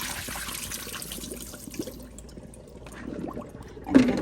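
Black cherries swish and splash as they are rinsed in water, a steady low wash of trickling liquid with a brief louder slosh at the end, heard alone without talk.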